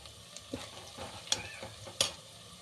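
Onions frying in a pan for chicken biryani, with soft steady sizzling broken by a few sharp scraping clicks as a spatula stirs them close by.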